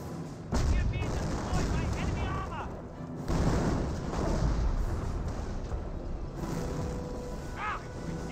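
Gunfire and explosions batter a Cromwell tank during a World War II battle in Company of Heroes: dense, continuous shooting and booming impacts with shifting intensity. A voice talks over the fighting.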